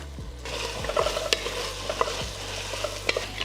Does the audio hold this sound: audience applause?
no